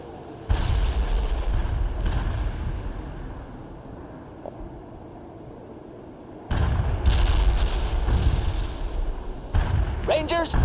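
Artillery and gunfire crash through a World in Conflict battle, with dense booming bursts that drop back briefly and then surge loud again, under radio-style unit voices speaking.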